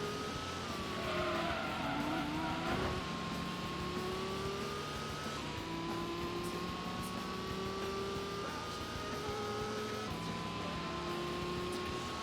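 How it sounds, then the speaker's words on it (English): A car in the Gran Turismo racing game spins its wheels and skids, with sustained tyre squeal in long wavering tones over a steady engine drone that runs the whole time, with no speech. "I'm trying to keep the car in second gear to avoid the wheel spin"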